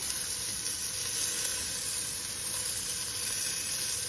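Pork loin chops frying in a pot for a one-pot Hawaiian meal, a steady loud sizzle and hiss that runs without a break and with no talk.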